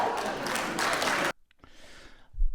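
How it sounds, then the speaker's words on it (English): A podcast audience gives a round of applause, a burst of clapping lasting just over a second that cuts off abruptly and is followed by faint residual noise and a low thump. "Give yourself a round of applause."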